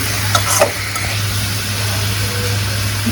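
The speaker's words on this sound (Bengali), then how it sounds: "এগুলো ভাজা হোক" Constant sizzle of food frying in a pan, with a couple of brief clinks near the start and a low steady hum underneath.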